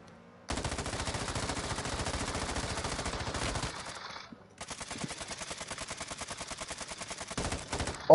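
Rapid automatic gunfire in Warzone 2.0, two long sustained bursts of fast, evenly spaced shots separated by a brief pause, loud and close.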